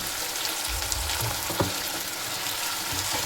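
Onion, chilli and tomato sizzling in a pan, a steady, dense crackle of frying with occasional soft stirring scrapes and no talking.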